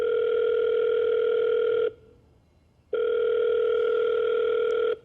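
Telephone ringback tone on an outgoing cold call: two long steady buzzing tones separated by about a second of silence, clear and alone with no talk.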